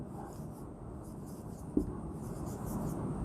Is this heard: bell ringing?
no